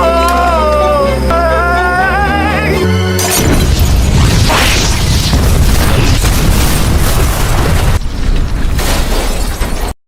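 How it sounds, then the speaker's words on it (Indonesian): A huge blast tears apart a mafia hideout: a deep, roaring boom swells after a brief tonal lead-in, followed by sustained rumbling debris and crashing that stays loud for several seconds before cutting off. "Tae-sik keluar dan menelepon detektif Kim, membiarkan polisi itu mendengar suara ledakan dahsyat yang melenyapkan sarang mafia itu, beserta Jung Seok di dalamnya."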